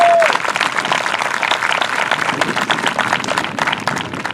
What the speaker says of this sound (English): Let's give all of our speakers a round of applause for their words of inspiration.